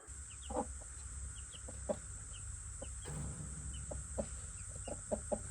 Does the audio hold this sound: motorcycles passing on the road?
no